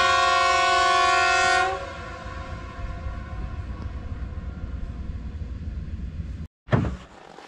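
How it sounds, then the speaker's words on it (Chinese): Narrow-gauge forest train in freezing Mohe at sunrise: a long, loud horn blast opens, then a steady rumble of rolling wheels and cars. The noise cuts out briefly before a sharp, loud clank. "太阳出来那一刻，丛林小火车也要来了"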